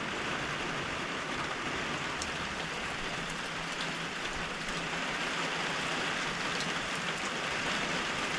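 Steady, dense rain falling outdoors, a continuous even hiss of drops on surfaces that fills the whole stretch without letting up, with no voices over it.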